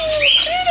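A single short, bright chirp from a pet cockatiel outdoors rises and falls in pitch, close and fairly loud.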